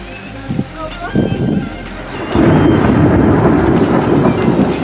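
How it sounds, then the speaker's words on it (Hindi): A deep rumble of thunder with lightning rolls in and swells into a loud, sustained roar over heavy rain and hail, with voices talking underneath. "ओहो क्या बिजली कड़की."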